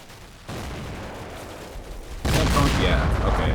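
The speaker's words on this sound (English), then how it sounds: "So evidently the tank saw them and shot them" A tank fires 120 mm rounds at infantry in the Combat Mission: Black Sea wargame: a sharp boom, then a second louder blast with gunfire-like crackle, under speech.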